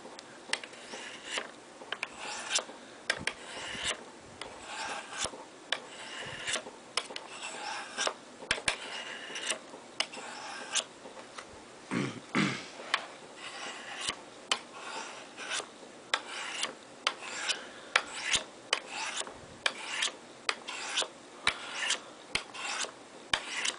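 Tonto knife blade being sharpened on a Spyderco SharpMaker, with repeated rasping strokes in an irregular rhythm, close and fairly quiet, with no talking.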